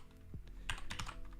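Several quick keystrokes on a computer keyboard, close and clear, a short burst of clicky taps with no voices.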